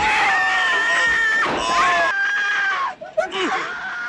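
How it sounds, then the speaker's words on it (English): A woman screams in the horror film Tenebrae, long sustained shrieks that are loud and close and break off near the end, with harsh sounds beneath them. "Wow, she is screaming her heart out."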